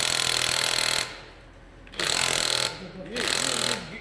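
A Matco 16V 3/8-inch electric impact gun fires in three loud, hammering bursts of about a second each, close by. Short quiet gaps separate the bursts, and a voice speaks briefly in one of them.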